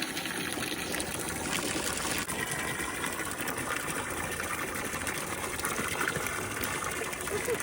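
Water gushes steadily from a garden hose into a trough for a thirsty animal, a continuous broadband rush with no pauses, fairly close and loud throughout.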